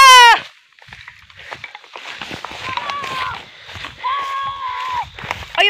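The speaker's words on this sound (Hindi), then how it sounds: "बकरी को लेके आ चुके हैं हम लोग तो अभी फटाफट बांधते हैं" Goats bleat near a rural spot at nightfall, with a couple of drawn-out, wavering bleats rising over rustling, footsteps and handling noise, fairly close.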